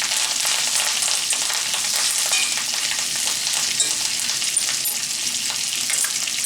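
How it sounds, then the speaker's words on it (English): Steak searing in a hot fat and oil mix, a loud, dense crackling sizzle that holds steady from start to finish with no voices over it. "I'm going to throw it into this fat and oil mix"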